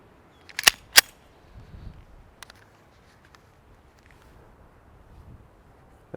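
A Ruger P89 9mm pistol fires two sharp shots close together near the start, followed by faint handling clicks and outdoor quiet.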